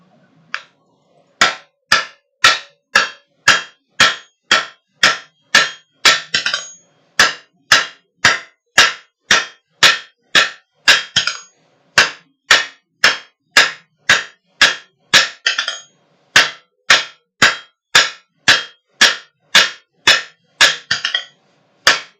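A hammer forges metal on an anvil in a steady run of evenly spaced ringing blows, close and loud, with a few brief pauses between groups of strikes and no talking.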